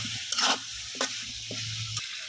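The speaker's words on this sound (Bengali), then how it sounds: "তো বন্ধুরা এই যে আমার ডিমগুলো আমি ভালোভাবে কষাই নিচ্ছি।" Duck eggs sizzling and being stirred in a spice masala in a pan, a steady frying hiss punctuated by a few short scraping stirs.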